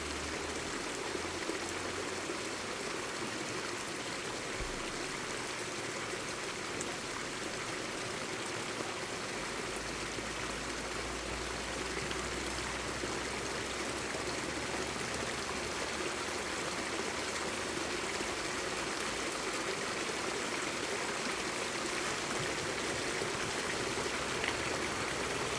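A waterfall and stream rush steadily and fairly loud, a continuous broadband wash of flowing water with no talk over it, beside a sandy bank where people fish.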